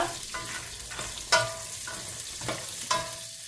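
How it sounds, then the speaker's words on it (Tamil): Nuts roast in ghee with a soft, steady sizzle, broken by a few periodic stirring scrapes and clinks against the pan. No one speaks. "இந்த நெய்யிலேயே வறுத்து கொள்ளுவோம்"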